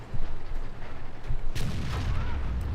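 An FV215b tank fires its gun in the World of Tanks video game, with one heavy boom standing out over a constant low engine rumble and other battle noise.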